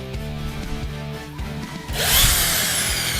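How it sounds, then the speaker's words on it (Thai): A power drill bores a hole, whirring at first, then biting in with a louder grinding rise partway through, close and alone with no speech. "ก็คิดว่าจะเจาะอีกสักหนึ่งรูนะครับตรงนี้ เพราะมันเจาะง่ายละ"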